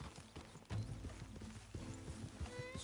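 Horse hooves clip-clopping with a brief whinny in the Red Dead Redemption 2 video game, layered over low, steady music and ambience.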